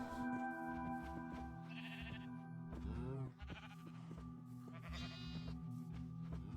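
Sheep in the Minecraft video game bleat in several short wavering calls spread over a few seconds, clear and fairly close, with no speech, mixed with soft game sounds.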